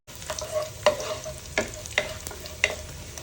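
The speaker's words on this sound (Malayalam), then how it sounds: "കുറച്ച് കാഷ്യൂസും റേസിൻസും കൂടെ അതിലേക്ക് ഞാൻ കഴുകി ചേർത്ത് കൊടുക്കുന്നുണ്ട്. ഒന്ന് വറുത്ത് കോരിയൊന്ന് മാറ്റി വയ്ക്കാം." Cashews and raisins fry in ghee and coconut oil in a pan, a soft steady sizzle broken by several sharp scrapes and clinks of a spoon stirring at irregular intervals.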